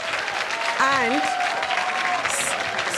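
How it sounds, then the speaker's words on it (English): An audience claps for Saif Ali Khan at the We the Women event at the Anil Agarwal Riverside Studios in London. Dense, sustained applause fills the room while a voice speaks over it. "a huge round of applause for the absolutely brilliant Saif Ali Khan"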